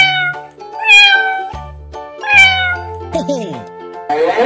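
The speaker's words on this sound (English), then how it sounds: "Cat." Cartoonish cat meows repeat several times, loud and close, set against tinkling electronic tones and a short rising jingle.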